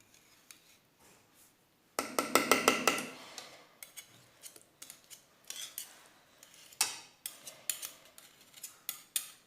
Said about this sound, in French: je vais pouvoir ajouter la cuillère à soupe de beurre